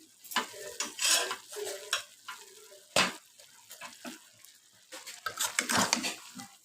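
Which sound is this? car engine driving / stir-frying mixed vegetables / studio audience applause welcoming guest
stir-frying mixed vegetables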